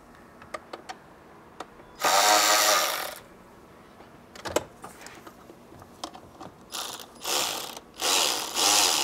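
Ratchet wrench removing 10 mm bolts on a 2018 Chrysler van engine, heard as several close bursts of rapid clicking ratcheting, each a second or two long, separated by quieter pauses with small taps and clinks of handling.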